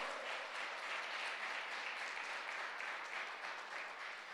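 A church congregation applauds in praise during a Portuguese sermon, a steady dense wash of clapping, distant and fairly quiet, with no pause across the stretch.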